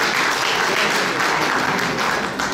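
Audience at a live quiz show in Haiti applauds: a dense, steady wash of many hands clapping, loud and sustained for a few seconds with no break.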